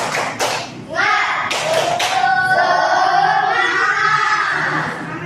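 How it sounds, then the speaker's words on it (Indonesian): An elementary school class does a rhythmic spirit clap led by the teacher, with a burst of sharp claps followed by children chanting together, loud and close in a classroom. "Kita tepuk semangat."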